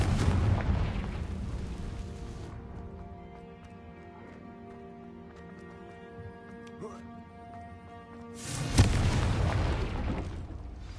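Fiery spell explosions from the Confringo curse in Hogwarts Legacy burst at the start and again near the end, booming and crackling loudly around a quieter stretch of ambient game music, with speech at times.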